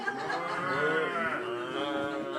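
Several people together imitate a cow, drawing out a long, wavering moo in unison at a steady, moderate loudness.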